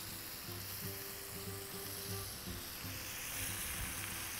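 Calamari fry in hot oil in a pan, a steady, dense sizzle with light bubbling that holds evenly throughout, close and continuous with no voices.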